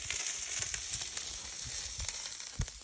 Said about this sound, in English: Some instant taters and some bacon for the grease.